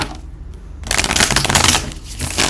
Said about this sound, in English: I just need to shuffle a few more times.